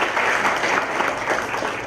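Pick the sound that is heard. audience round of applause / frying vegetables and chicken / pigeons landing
audience round of applause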